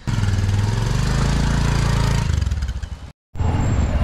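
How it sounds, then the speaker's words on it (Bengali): Motorcycle engines from a group of three bikes setting off on an early morning ride, a loud close throbbing engine note rising and settling over several seconds, briefly cut to silence before resuming. "আর আমরা যাচ্ছি 3টা বাইক নিয়ে।"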